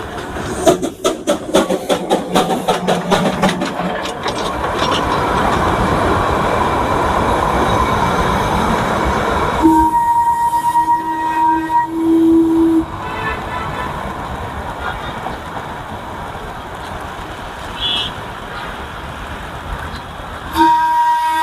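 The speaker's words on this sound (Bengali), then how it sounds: "এখানে কিন্তু আরেকটা টয় ট্রেন চলে এসেছে" A small toy train at Darjeeling's Batasia Loop clatters in with rhythmic clacking that settles into a steady rumble, followed by a few sharp wheel squeals and a short horn toot.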